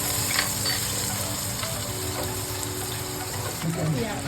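Onions frying in a pan for chicken curry, a steady close sizzle with occasional stirring scrapes and a brief clink near the end, no talking.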